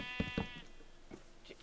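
Sheep in a Minecraft farm give a few short bleats, two close together at the start and softer ones later, loud and near with nothing else alongside.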